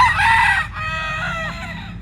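A Butcher F1 gamefowl rooster, a white pit street comb, gives one loud, close crow that trails off over two seconds. No voices are heard over it.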